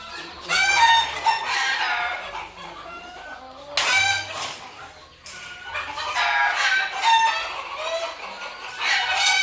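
Country hens and their chicks cluck and cackle continuously nearby, overlapping calls and chirps rising and falling, with no voices in between.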